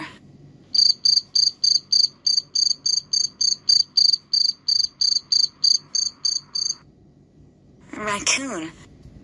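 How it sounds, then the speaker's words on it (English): A fast, steady run of high, buzzing insect chirps, pulsing evenly for several seconds before stopping, followed by a short higher call. "Grasshopper."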